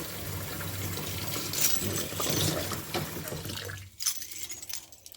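Running water splashes and rushes over brass cartridge cases for several seconds, then cuts off into a few brief trickles and clinks.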